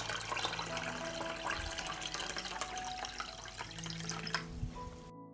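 Water is poured into a cloth-lined pan holding jars, filling it up to the height of the lids, with a steady gurgling, splashing pour and rising tones that stops abruptly at the end.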